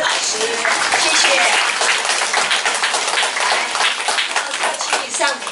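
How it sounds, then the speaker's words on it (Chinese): Audience applause greeting Teacher Zheng at a lecture, steady clapping from many hands filling the room for the whole stretch, with voices mixed underneath. "我们能不能用热烈的掌声谢谢欢迎我们的郑老师"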